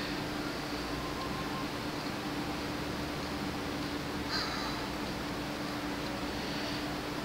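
A crow-like caw sounds in a video game on a Sony PS Vita while a cat chases a bird, one short call near the middle over a steady hiss and hum.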